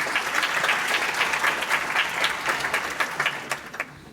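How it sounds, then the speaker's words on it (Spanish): Audience applause for a guest speaker at a talk on psychology and sexual diversity: dense, steady clapping from a sizable crowd for about four seconds, thinning into a few scattered final claps at the end. "Un aplauso por favor para Lorena"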